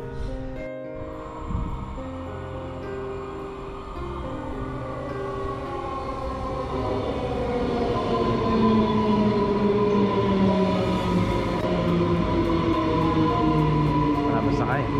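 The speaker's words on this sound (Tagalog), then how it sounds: "Tagal ng tren, dapat 5:30" A train pulls into a station, its rumble and squealing wheels rising steadily louder over a continuous background, with some talking heard alongside.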